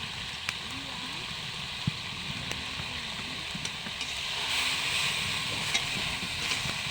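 Cumin and onion paste is stirred in a pan, a soft continuous sizzle with faint scrapes and occasional ticks of the utensil, quiet and steady, with a faint voice underneath.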